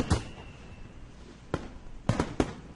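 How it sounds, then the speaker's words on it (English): Fireworks burst at twilight with a few sharp cracks, one early, one in the middle and a quick cluster of three near the end, over a faint background. "Sparkling traces arc upward, ready to explode in the floral shapes of fireworks."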